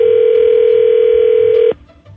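A loud, steady telephone dial tone hums while a call is placed, holding one unbroken pitch for nearly two seconds before stopping abruptly into quiet line noise.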